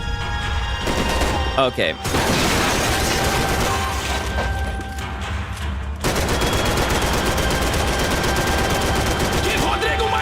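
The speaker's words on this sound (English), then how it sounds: "I am getting lit up by all these bullets" Dense, continuous video-game gunfire with rapid bursts like a machine gun, loud and sustained throughout, with a brief spoken word over it.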